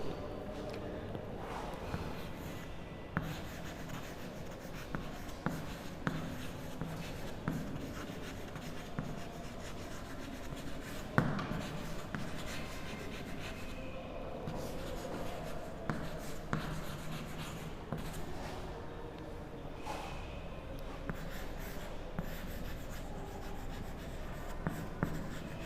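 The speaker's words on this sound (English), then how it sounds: "Now let me write it down" A pen scratches steadily across paper for a long stretch, with occasional taps and brief pauses between strokes, close and quiet, in a classroom grammar lesson.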